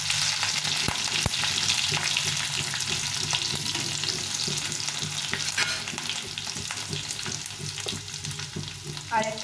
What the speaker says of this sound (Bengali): তো এগুলো দিয়ে ফোড়নে দিয়ে দিলাম